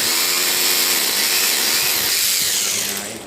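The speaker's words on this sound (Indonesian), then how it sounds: "Pengeboran untuk pemasangan dinamo" A drill bores steadily while a Daikin inverter air conditioner's outdoor unit is being installed, a loud, continuous whirring grind that holds for several seconds and eases slightly at the end.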